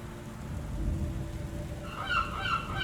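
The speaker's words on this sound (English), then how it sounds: "Gull colony." Seabird cries from a gull colony in the video game Book of Hours, a cluster of bright, overlapping calls arriving in the last second over a steady low ambient rumble, with no talk.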